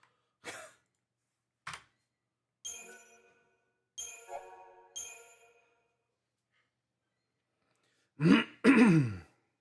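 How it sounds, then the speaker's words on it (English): Throat clearing after eating ice cream, several short separate rasps spaced across the clip, then two louder, longer clearing sounds near the end, close and alone in a quiet room. "I'm gonna be clearing my throat for the next hour."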